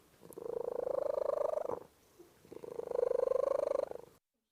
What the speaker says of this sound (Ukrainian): А зараз цей кіт весь час муркоче.